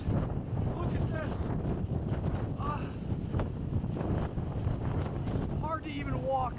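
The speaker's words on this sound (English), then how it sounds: "this storm just continues to wreak havoc here with these gusts" Hurricane Ian's gusts roar past storefronts in Fort Myers, Florida, buffeting the microphone in a constant heavy rush with brief surges, while voices can be heard faintly beneath.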